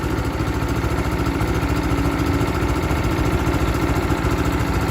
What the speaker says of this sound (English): I moved it over to idle to let it warm up